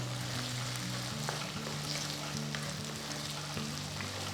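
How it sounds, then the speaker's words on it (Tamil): Potatoes sauté in a pan over a medium flame for a pea kurma. A continuous, even sizzle of frying holds steady throughout, close and moderately quiet, with a low background hum and no voices. "ஃப்ளேம் மீடியமில் வச்சு நல்ல உருளைக்கிழங்கு ஒரு ஃபைவ் மினிட்ஸ் நல்லா வதக்கணும்"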